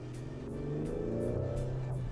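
A 2023 Ford Explorer ST's twin-turbo EcoBoost engine pulls hard under acceleration, a steady, rising drone with climbing harmonics that grows slightly louder over a couple of seconds, with no talk over it.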